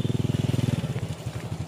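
A stalling motorcycle engine in a flash flood at Pituruh, Purworejo, chugs in a fast, steady knocking rhythm, then falters into uneven, sputtering clatter, loud and close.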